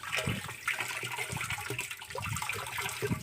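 Water poured into a container to dissolve fertilizer for drip irrigation, a steady splashing, gurgling stream that is moderately close and continuous, with no talking.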